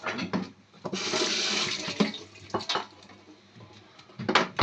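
Tap water runs steadily over mushrooms being rinsed in a kitchen sink, with broadband splashing that swells and dips as the mushrooms are handled.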